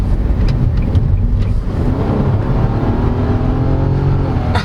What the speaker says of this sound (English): Now you hear the turbo, just at a higher RPM.